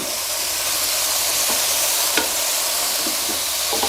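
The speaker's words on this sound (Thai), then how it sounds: "ผัดคลุกเคล้าให้เข้ากันครับ" Chicken sizzles loudly in a hot pan as it is stir-fried with green onions and coriander, with occasional scraping knocks of a utensil against the pan beneath the constant frying hiss.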